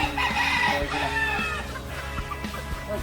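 On a farm, chickens and roosters cluck and crow nearby, with overlapping calls that are loudest early on and then a little more scattered.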